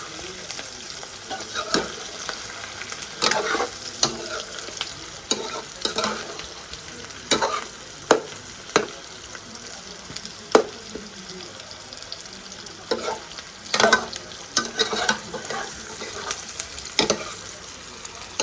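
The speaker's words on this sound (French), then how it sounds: "Je laisse les oignons bien à faire." Chopped onions frying in a pan for rougail saucisse, a steady close sizzle broken by repeated scraping stirs and clacks of a utensil against the pan, with no one talking.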